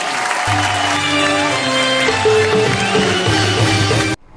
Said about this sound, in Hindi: जोरदार तालियां सूरत अजनबी।